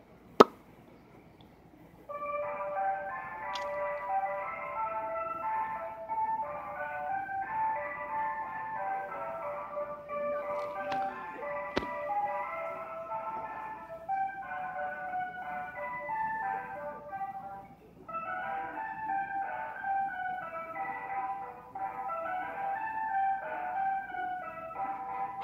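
An ice cream truck's chiming music-box jingle plays continuously, repeating its tinkling tune at a moderate distance over faint background noise, with no talking.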